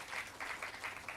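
Audience applause at a lecture hall gathering, a steady wash of many hands clapping in bursts across the short moment, moderately distant and fairly soft.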